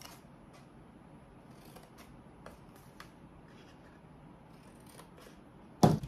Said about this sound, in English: I'm gonna take my scissors below that 1 inch score line, and I'm gonna create the flaps for the bottom of the box